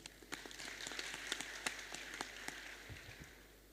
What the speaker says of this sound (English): So big applause to him.